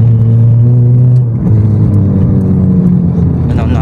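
A Honda Civic FD with an open exhaust pipe drones loudly, its raspy note holding steady, dipping briefly, then rising again as the revs change, heard close up.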